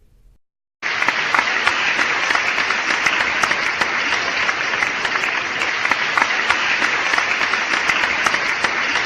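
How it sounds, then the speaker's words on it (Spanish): Sustained audience applause at a copyright law lecture, starting abruptly after a brief quiet moment and continuing as a steady, dense wash of clapping from a sizable crowd. "Gracias por los aplausos."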